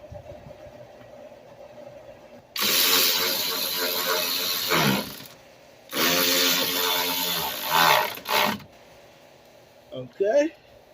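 Two long bursts of rapid ratcheting as a screw is tightened during radiator replacement on a 2003-2005 Lincoln Aviator with the 4.6L V8, loud and close, each lasting a few seconds, with someone talking quietly between them.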